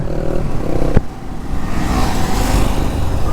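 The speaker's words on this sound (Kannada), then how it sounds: "ಇಪ್ಪತ್ತೇಳು ಬೈಕ್ ಒಂದೇ ಸತಿ ಹೋಗ್ತಾ ಇದೀವಿ ಇವಾಗ" Twenty-seven motorcycles rumble together in a steady, loud stream of engine noise, with a brief clunk early on and no voices.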